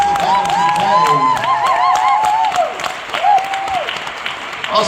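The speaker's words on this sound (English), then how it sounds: "Let's give a round of applause for our academic affairs team who helped pull all of this together today." A crowd claps loudly at a Right to Read literacy kickoff event, with cheers and voices rising over the applause before it thins out toward the end.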